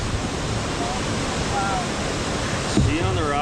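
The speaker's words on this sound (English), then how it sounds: "Beautiful view at the falls, or the water coming in on the side there." Water rushes steadily over the falls on the Grand River, a broad, constant wash of noise that fills the scene, with a brief voice near the end.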